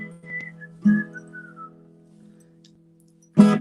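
A person whistles a short tune as part of a quiz round, the clear whistled notes rising and falling alone, bracketed by a couple of louder bursts of other sound.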